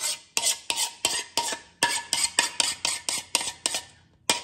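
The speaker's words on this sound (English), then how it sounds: "I apologize for scraping the bowl, but that's just what I do." A spoon scrapes repeatedly around a casserole mixing bowl of baked ravioli mixture, about a dozen sharp close scrapes in a quick uneven rhythm with no talking.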